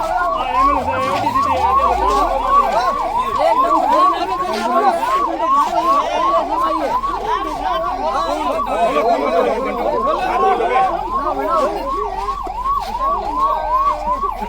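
An ambulance siren wails in fast repeating cycles at a crowded hunger-strike protest in Lohawat, loud and continuous over murmuring crowd chatter and a brief low horn.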